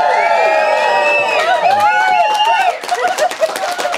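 Wedding guests cheer and whoop together after a toast, a loud burst of overlapping voices that breaks into scattered chatter and laughter.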